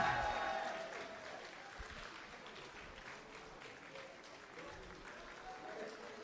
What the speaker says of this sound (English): Allez, on applaudit Jetstream